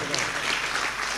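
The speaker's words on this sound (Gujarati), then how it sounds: "એ તમામ ભક્તજનોને એકવાર જોરદાર તાળીઓના ગગડાથી વધાવો." Applause at a Gujarati folk literature stage program, a brief wash of crowd clapping that blends with the surrounding hall noise, loud and continuous.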